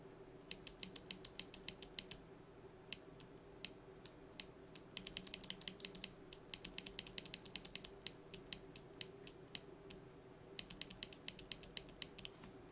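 Mechanical keyboard with Box Pink switches typed on up close, quick bursts of crisp clicky keystrokes in irregular runs with short pauses, quiet and alone.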